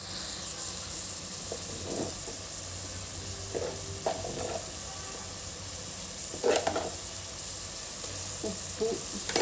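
Amaranth leaves sizzle and hiss steadily in a frying pan, with occasional stirring clatters and louder crackling bursts close by.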